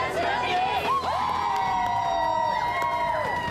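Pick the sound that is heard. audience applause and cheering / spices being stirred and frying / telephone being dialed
audience applause and cheering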